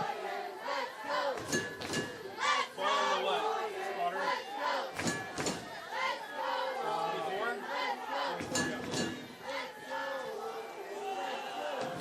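A high school football crowd at a game between SSFHS and Gunn High School cheers and yells as cheerleaders call for more noise. The crowd rises and falls in rhythmic chant-like bursts with brief gaps, and voices are mixed in.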